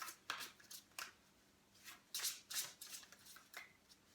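Tarot cards being shuffled by hand in a series of quick riffling bursts, crisp papery flutters separated by short pauses, close and fairly quiet with no talking.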